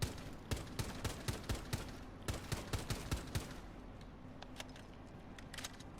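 Rapid gunfire rattles through a wall in Rainbow Six Siege, several quick bursts of sharp, fairly faint shots in a steady rhythm, thinning to a few scattered impacts.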